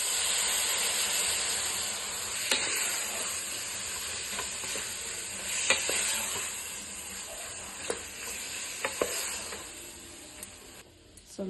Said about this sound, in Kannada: ನಾಲ್ಕರಿಂದ 5 ಟೊಮೆಟೊ ಸಣ್ಣಕ್ಕೆ ಹೆಚ್ಚಿಟ್ಟಿರೋದು ಹಾಕ್ತಾ ಇದ್ದೀನಿ.